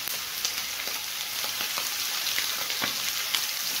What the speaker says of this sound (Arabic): دلوقتي الزيت سخن، هنحط عليه اللسان